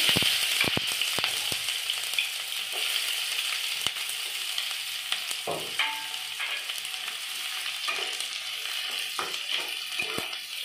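Chopped onion and cumin frying in a pan, an even, moderate sizzle marked by frequent sharp clicks and scrapes of a utensil against the pan throughout.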